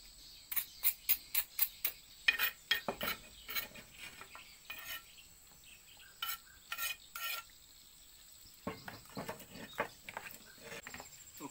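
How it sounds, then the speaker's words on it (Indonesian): A spoon clinks and scrapes in a bowl as garlic is stirred into salt water for soaking banana stem chips, giving faint, quick, rhythmic ticks, first in a fast run and then in sparser clusters, with no talk. "Terus saya mau mencampur nih bosku bawang putih."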